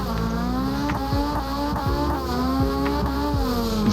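An engine revs hard in Assetto Corsa as the car is thrown into a handbrake drift, its pitch rising and falling through repeated shifts while tires scrub and squeal loudly throughout.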